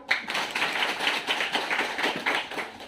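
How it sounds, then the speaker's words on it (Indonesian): An outdoor community gathering claps together in a loose, rhythmic patter of hands that rises and dips in waves, fairly close and without talk over it. "Masyarakat harus bertepuk tangan"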